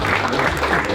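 A crowd in Liechtenstein claps loudly and close by in a dense burst of applause that holds steady for a moment.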